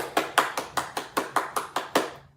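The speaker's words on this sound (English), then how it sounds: "Can you clap your hands?" Nine crisp hand claps in a steady, even rhythm, close and clear with no voices, during a children's music lesson.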